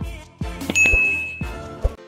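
Notification bell sound effect, two bright metallic dings with a ringing tone, close and clear with no talk over it.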